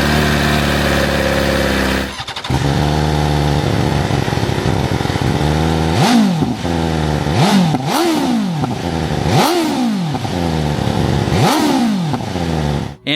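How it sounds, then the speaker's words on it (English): A 2024 BMW S1000 XR motorcycle engine cranks and catches, then settles into a steady, rumbling idle punctuated by several sharp throttle blips that rise and fall. "we have the engine start stop control on this right side, and if I hold it down, we can start this up"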